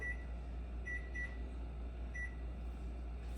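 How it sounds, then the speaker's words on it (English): A microwave oven's keypad beeps several times in short, separate electronic chirps as its timer is set, over a low steady kitchen hum. "So I'm gonna set my timer on the microwave"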